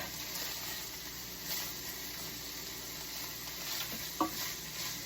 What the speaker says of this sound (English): I'm continuing to break it up and stir it around because I don't want any pink left.